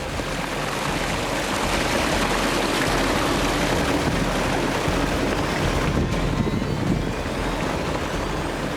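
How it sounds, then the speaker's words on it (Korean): Water rushes down a terraced Inca stone aqueduct high on a mountainside near Cusco, a loud continuous roar of flowing water, with no one talking. "높은 산 중턱에 층계식으로 이루어진 수로엔 1년 내내 물이 흐른답니다."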